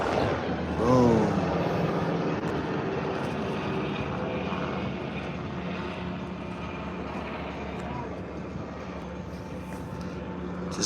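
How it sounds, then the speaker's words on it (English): An airplane passes over a beach pier, its engine a steady broad roar that swells briefly near the start and then holds, mixed with open outdoor ambience. "Just doing a little flyby here on the pier."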